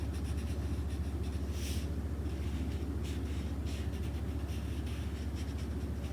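A Sharpie marker draws lines on paper laid over newspaper, giving a continuous close scratchy squeak with short bursts of stroke friction over a steady low hum.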